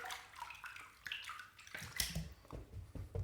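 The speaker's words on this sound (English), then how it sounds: "I'm going to get some warm water in the sink here." Warm water runs into a bathroom sink for shaving prep, a steady close splashing fill with brief clinks and sloshes rising partway through, no voices.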